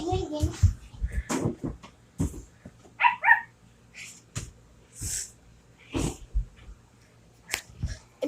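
A person imitates a dog with a series of short barks, yips and snorts spaced out in bursts, close and fairly loud, and a voice is heard between them.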